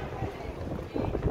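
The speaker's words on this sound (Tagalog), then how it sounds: "mahangin din, pero mainit pa rin yung simoy ng hangin" Hot outdoor wind buffets the microphone in a brief, low, uneven rumble, with gusts swelling and fading over about a second.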